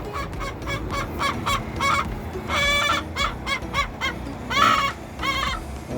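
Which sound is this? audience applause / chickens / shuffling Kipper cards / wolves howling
chickens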